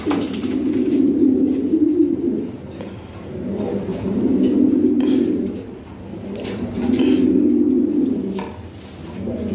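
Lahori Shirazi pigeons coo in long, rolling low phrases that swell and fade in roughly two-second waves, nearby at a pigeon seller's loft, with faint voices in the background.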